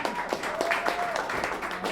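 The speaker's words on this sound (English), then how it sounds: "Give yourself a round of applause for sticking around this long." A comedy club crowd in Dayton, Ohio claps for a short stretch, a moderate patter of hands with some voices faintly mixed in.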